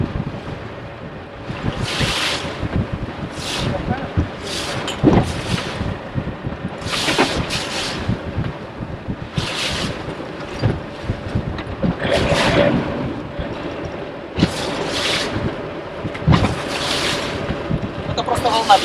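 Waves slap against a sailing yacht's hull at sea in repeated irregular bursts over steady wind and water rush, with no clear talk.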